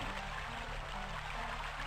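A steady wash of flowing liquid pours down from a waterfall of muck in the Star Wars: Dark Forces Remaster video game, a continuous even stream with a low rumble underneath and no voices.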